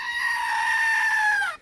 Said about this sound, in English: Say hi to the goat for me.